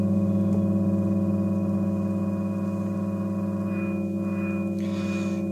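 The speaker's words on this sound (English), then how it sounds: "you can get these fluttering tones as well" Fluttering, wavering tones from a handmade standalone drone generator synth, a dense stack of steady sustained pitches with a warbling high layer that pulses toward the end, loud and continuous with no talk.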